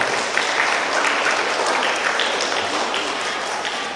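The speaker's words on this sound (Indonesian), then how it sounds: "Tepuk tangan dulu untuk sekolah anaknya" A crowd of parents claps at an elementary school graduation ceremony: steady, dense applause fills the room at close range and continues unbroken.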